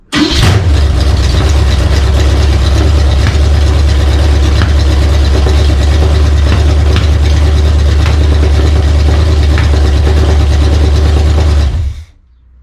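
A hot engine fires up with no throttle and settles straight into a loud, steady idle that rumbles on close by for about eleven seconds before it shuts off.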